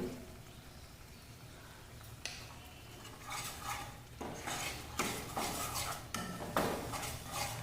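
Spice paste for paneer pasanda sautéed in a pan, with a spoon scraping and clinking against the metal in irregular strokes, quiet at first and growing busier, with no talking.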